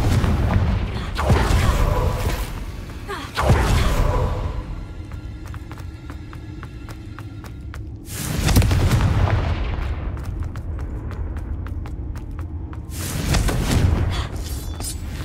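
Confringo explosion spells in the game Hogwarts Legacy: four heavy booming blasts spaced a few seconds apart, each followed by crackling debris and ringing tails, loud and close.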